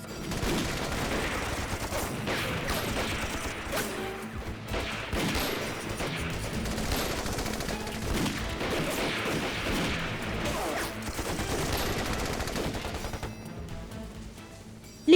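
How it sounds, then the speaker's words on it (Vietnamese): Japanese machine-gun fire mixed with other gunfire in an anti-Japanese action war film, dense overlapping bursts and volleys rattling continuously for fifteen seconds at moderate loudness, no speech over it. "ngoài tiếng súng máy của bọn Nhật còn có một loại nữa. Có một loại tiếng súng mà trước chưa từng nghe qua."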